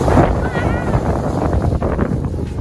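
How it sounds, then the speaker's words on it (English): Strong wind buffets the microphone in heavy, low rumbling gusts, loud and constant throughout. "It's super windy now."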